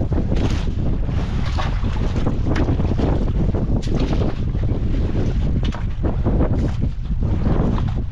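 Strong wind buffets a fishing boat out at sea, a steady loud roar of microphone wind noise with water and hull sounds underneath, continuous throughout with no talking.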